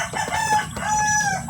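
Several chickens on a backyard brood farm, including SBR and Yellow Legs breeds, crow and cluck close by in overlapping drawn-out calls, steady and loud with faint barnyard noise underneath.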